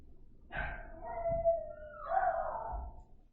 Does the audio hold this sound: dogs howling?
yes